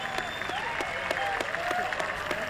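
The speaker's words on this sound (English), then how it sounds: "Listen to the crowd." A golf gallery at the Sony Open applauds a finishing putt. Sustained clapping and cheering come from a crowd at some distance and stay steady throughout.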